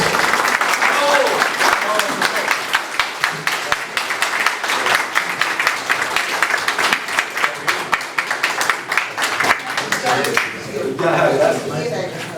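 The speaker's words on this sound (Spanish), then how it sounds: "Fuertes aplausos para el abogado e historiador Ernesto Blume Rocha" Enthusiastic applause for a lawyer and historian at a Jorge Basadre anniversary event, many hands clapping in a dense crackle that thins out toward the end, with a speaking voice coming in over it.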